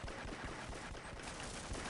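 A shotgun fires in the video game Half-Life, heard as a few faint, distant bursts of gunfire over low background noise.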